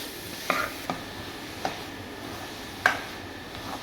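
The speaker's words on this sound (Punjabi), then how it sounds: "ਨਾਰੀਅਲ ਤੇ ਗੁੜ ਨੂੰ ਆਪਾਂ ਮਿਕਸ ਕਰ ਦਿੱਤਾ" A spoon stirs grated fresh coconut and jaggery in a pan over a gas flame, making a soft continuous scraping with four distinct sharp clicks against the pan, close and alone.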